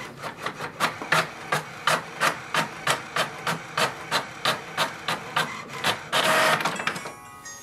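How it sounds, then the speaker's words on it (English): An HP Envy 6455e inkjet printer prints a page: about seventeen evenly spaced mechanical whirring passes of the print carriage, close and moderately loud, ending in a brief burst of louder feed noise as the sheet is pushed out. "It will send a command for the printer to print a page."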